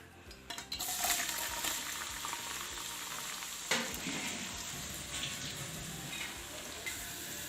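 Chopped onion sizzles steadily in hot cooking oil for an aloo matar curry, a continuous crackling hiss with occasional scraping stirs from a utensil in the pan.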